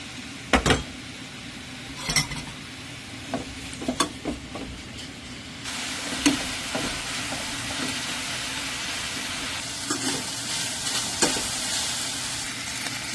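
Beef stir-frying in a pan with bell pepper and pineapple, a steady loud sizzle broken by repeated sharp scrapes and clacks of a utensil against the pan, no voices.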